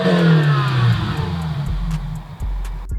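BMW 320i E92 petrol engine revving, its heavily muffled exhaust giving a quiet, steady hum that dips and settles back over a few seconds.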